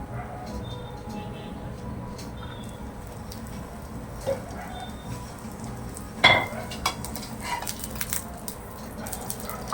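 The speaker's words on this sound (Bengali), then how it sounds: "দুটো পিঠেই ভালো ভাজা হয়ে গেছে। এবার তেল দিয়ে দেবো।" Aloo paratha frying in oil on a pan, a faint, steady low sizzle running throughout, with a few small clicks and one sharper clatter of utensil on pan partway through.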